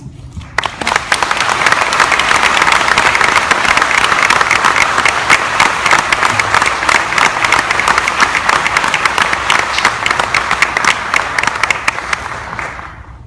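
Audience applause fills a hall at a Reach Out Pregnancy Center event, welcoming a speaker: steady, dense clapping from a sizable crowd, rising quickly to full volume and holding evenly for about twelve seconds before tapering off.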